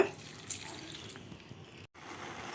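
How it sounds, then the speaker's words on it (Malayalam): A cup of water goes into a pan of carrots on a home kitchen stove, a faint, steady pour with a light splash at the start. It cuts off abruptly near the end, with no talk. "ക്യാരറ്റ് വേകാനുള്ള വെള്ളം നമുക്ക് ഒഴിക്കാം. ഇതിന് 1 കപ്പ് വെള്ളമാണ് ഒഴിക്കുന്നത്."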